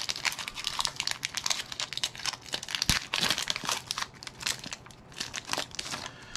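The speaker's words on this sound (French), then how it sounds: "j'ouvre le paquet de cartes." A Pokémon card booster pack's foil wrapper is torn and crinkled open close up, with irregular sharp crackling and rustling bursts throughout.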